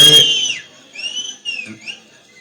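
Whistles blow at an outdoor political campaign rally, a sharp burst of crowd noise at the start, then several thin, wavering whistle tones rising and falling for a couple of seconds.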